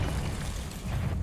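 An Expelliarmus spell cast in the Hogwarts Legacy video game, a dense, rumbling magical burst with a low roaring body that holds steady for about a second before dipping and swelling again.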